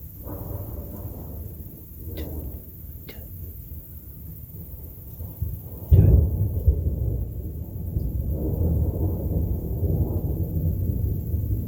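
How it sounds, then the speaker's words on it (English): A loud thunder crack bursts out during a heavy thunderstorm, preceded by faint distant rumbles and followed by a sustained rolling rumble over a steady background of rain and wind. "I like the big loud thunderstorms."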